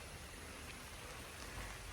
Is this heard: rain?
yes